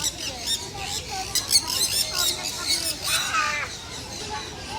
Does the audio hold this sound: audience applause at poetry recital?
no